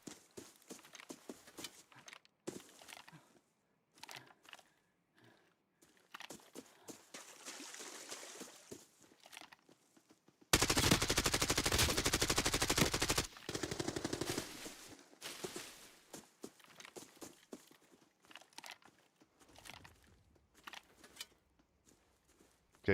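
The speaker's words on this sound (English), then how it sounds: "I heard something, right? A little suppressed gunshot." Suppressed gunfire in the shooter game Arena Breakout: scattered soft, muffled shots and clicks, then a loud sustained burst lasting about three seconds before quieter scattered sounds return.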